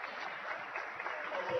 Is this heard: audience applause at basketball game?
yes